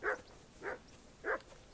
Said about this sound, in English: Jesus, Henry, that barking's driving me nuts. Can you get your dog to shut its beak?